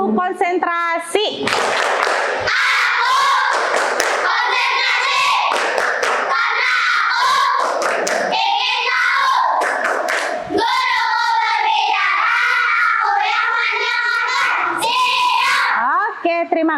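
Schoolchildren in a classroom perform the rhythmic tepuk konsentrasi clapping routine, patterned group claps mixed with loud chanted voices and shouts that run continuously, close and lively.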